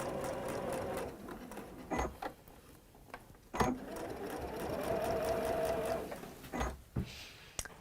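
A domestic sewing machine stitches across a scrap piece of fabric, a steady whirring hum broken by clicks and knocks of handling, running quietly without talk.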